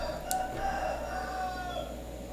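A chicken crows in the background, faint and distant, beneath a steady hum in a room where an electronic password lock with a relay and buzzer is being demonstrated.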